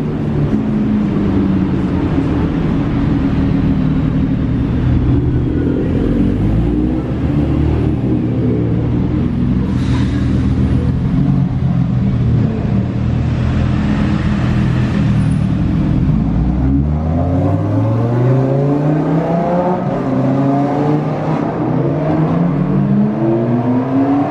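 A nearly new Lamborghini Huracan EVO still being run in, its engine droning loudly inside the cabin while driving, with pitch rising and falling through gear changes and climbs in revs.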